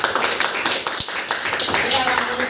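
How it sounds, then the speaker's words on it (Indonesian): A classroom of students applauds in a dense burst of quick claps, with voices mixed in. "Jadi semuanya benar ya, tepuk tangan dulu."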